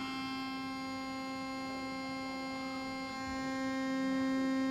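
A Philips Sonicare DiamondClean electric toothbrush runs close by with a steady, tonal, high-pitched buzzing hum, constant throughout with a slight rise near the end and no voices.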